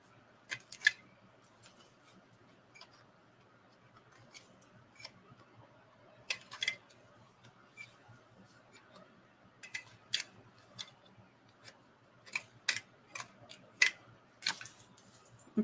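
Scissors snipping in short, sharp clicks, irregular and quiet, spaced through a faint, otherwise still room with no talking.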